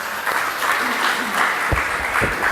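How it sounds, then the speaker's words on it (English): An audience at a university business workshop applauds a third-year student, dense even clapping throughout with some voices faintly beneath. "Big round of applause for him."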